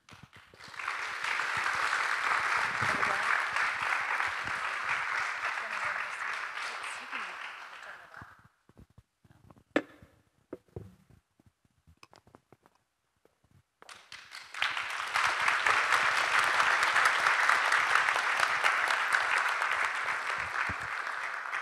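An audience at a Tzu Chi USA English retreat breaks into warm, sustained applause twice, with a short stretch of talking between the two rounds of clapping.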